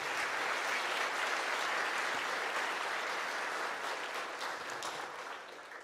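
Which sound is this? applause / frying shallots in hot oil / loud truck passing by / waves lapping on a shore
applause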